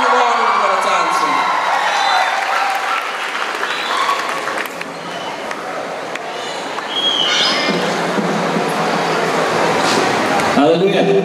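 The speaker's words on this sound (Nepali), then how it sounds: "म उहाँलाई जोरदार तालीका साथ स्वागत गर्न अनुरोध गर्न चाहन्छु" Sustained audience applause fills a worship concert in Pokhara, Nepal, welcoming a singer to the stage; dense, loud clapping with scattered whoops runs throughout, swelling again near the end.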